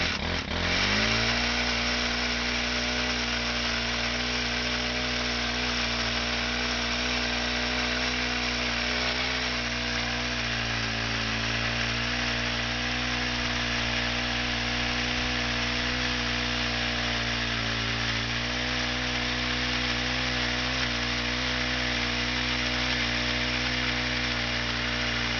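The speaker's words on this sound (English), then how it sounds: "I thought I'd show y'all how well this thing saws" A chainsaw runs steadily at high revs while cutting through a large log outdoors, a loud continuous whine with slight dips in pitch as the chain bites into the wood, with no talking.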